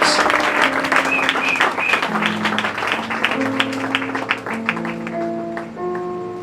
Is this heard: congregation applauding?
yes